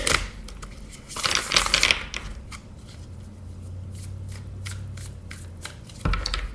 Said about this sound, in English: I'm going to go ahead and shuffle a little more with the Thoth deck